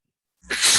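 A single sharp sneeze bursts out suddenly after a moment of silence, close and loud.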